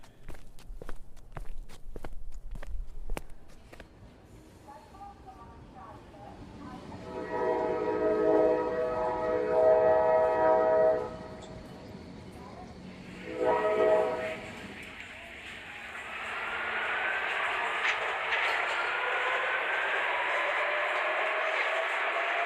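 Train sound effect in a spooky audio story: footsteps at first, then a train horn blaring in two bursts before the rolling roar of a running train builds and holds, with brief speech early on.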